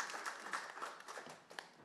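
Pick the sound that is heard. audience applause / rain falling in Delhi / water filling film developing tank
audience applause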